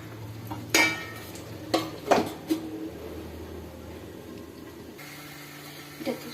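Banana flower dalna is stirred in a pan with a few sharp clinks and scrapes of the utensil against the pan, spread between quieter stretches of low background hum.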